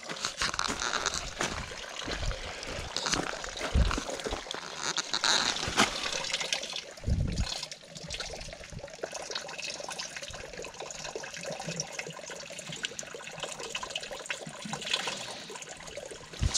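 Running water trickling steadily inside a cabin at night, a continuous broadband wash with a few brief knocks and bumps over it, no voices.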